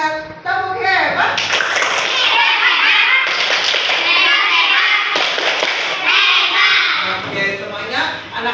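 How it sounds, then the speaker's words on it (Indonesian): Children in a primary school classroom perform a rhythmic group clapping routine, with dense, loud claps mixed with their chanting voices throughout. "Kita tepuk hebat dulu kalau sudah menjawab dengan benar."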